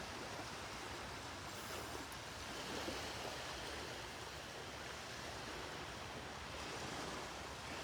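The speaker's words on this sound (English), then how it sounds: "The waves are like a heartbeat." Ocean waves wash steadily onto the beach at Delnor-Wiggins, a continuous broadband surf rush with gentle swells and light wind noise, close and fairly loud, with no talking.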